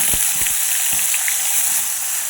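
Ground tomato-onion paste sizzles steadily and loudly in hot oil in a kadhai, a dense, close frying hiss with a few faint clinks and no talk.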